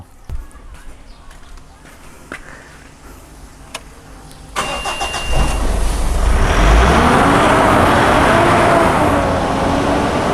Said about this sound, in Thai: เร่งไว้สามพันรอบครับ ยาวๆ เลย